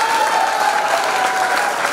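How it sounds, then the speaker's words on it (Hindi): A theatre audience applauds after a presentation, a dense, steady wash of clapping that stays fairly loud and even throughout, with no speech over it. "जोरदार ताली के स्वागत कीजिए"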